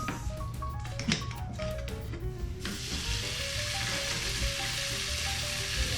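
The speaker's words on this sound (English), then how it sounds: "we're gonna fry up some butter here. We're actually gonna take the noodles and put them right back in the butter." Noodles fry in butter for Emirati balaleet, a steady close sizzle with faint scraping, first under a light melodic background and then as an even, louder hiss to the end, with no talking.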